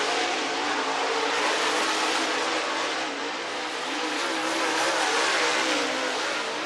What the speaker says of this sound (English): Spencer Hughes out of Meridian, Mississippi, the JCM Motorsports number 19M, rolling around the speedway as well